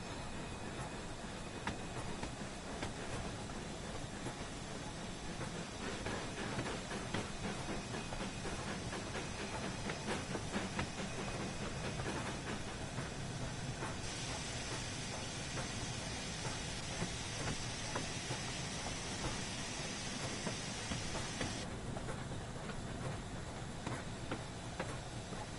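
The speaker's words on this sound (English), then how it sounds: "Everyone likes a good bit of an early morning shunt." Train shunting on a foggy early morning in the Peak District in Train Sim World 3, a steady hissing, rumbling rail and engine wash with faint ticking and clanking, continuous and moderately distant with no talk.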